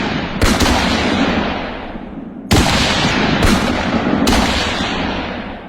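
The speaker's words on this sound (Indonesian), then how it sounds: "lalu terjadi baku tembak dengan George." A gunfire sound effect of an exchange of shots: several loud, booming reports spaced a second or two apart, each followed by a long rumbling decay, with no voices.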